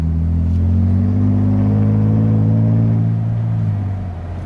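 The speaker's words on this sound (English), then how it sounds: "And the exhaust is loud." A loud, deep Carven exhaust drone from a pickup truck rises steadily as the truck accelerates from about 2,000 RPM, then eases off near the end; no talking.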